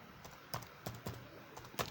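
Typing on a computer keyboard running Windows 10, with a handful of separate, sharp key clicks at an irregular pace, close up and fairly quiet, no voices.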